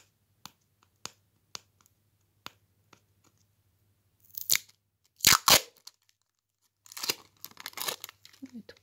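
Adhesive tape tears off the roll in sharp, crackling rips and is wrapped around a wire end while making a doll's arm joint, preceded by faint rhythmic clicks, close and quiet.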